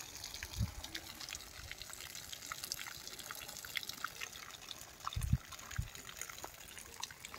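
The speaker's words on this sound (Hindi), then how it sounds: "देखिए बारिश का पानी ऐसे ही गिर रहा था" Faint rainwater drips and trickles steadily, with a few soft heavier splashes now and then, quiet and without voices.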